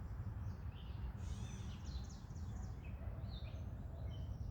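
Robins sing faintly in a forest, with thin, high chirps and short warbled phrases scattered over a steady low background rumble.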